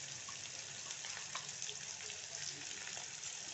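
Onions fry in a pan for a sprouted moth bean curry, giving a close, continuous crackling sizzle with faint spattering pops and no talk.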